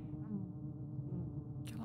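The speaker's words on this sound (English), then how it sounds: "Stop staring at bees." Bees buzz in the sci-fi video game Fort Solis, a steady low insect drone holding evenly throughout with no talk, ending in a short bright burst of noise.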